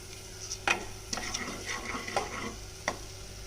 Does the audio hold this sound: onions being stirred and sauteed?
yes